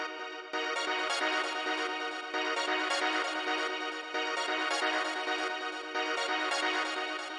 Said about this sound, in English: the first sound we have here is a string sample